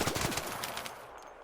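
Rapid automatic gunfire in the ARC Raiders video game hits armored practice dummies, a loud close burst of quick repeated shots that fades out within about a second.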